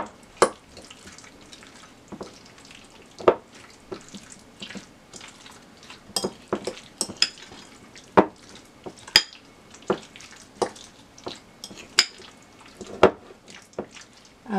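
Cucumber and onion being mixed in a bowl for a creamy cucumber and dill salad: irregular wet squelches and sharp spoon clicks against the bowl, close and moderately loud, with quiet pauses between strokes and no voices.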